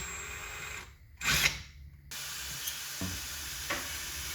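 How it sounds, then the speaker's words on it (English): Short burst of a spinning 1/4-inch brass rod being cut to form a rivet: a bright, hissing cutting noise lasting about a second amid quiet workshop background, followed by faint clicks. "By spinning it and cutting it, it's going to make a nice clean cut with no burr."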